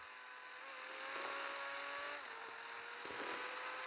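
A car accelerating during a race in GTA 5 Online, a sustained engine whine that climbs in pitch and drops back at gear shifts, steady and fairly close, with no speech.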